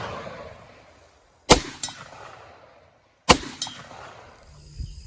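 Two sharp metallic clicks, each with a brief rattling after-snap, as 450 Bushmaster rounds are pressed into a Duramag magazine, heard close with quiet outdoor background between them.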